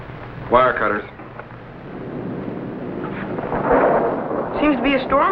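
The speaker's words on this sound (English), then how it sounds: "Seems to be a storm coming out." Storm thunder sound effect from a 1956 science-fiction TV show, a rolling, rumbling roar that swells through the middle and builds louder toward the end, with a voice speaking briefly at the start and again near the close.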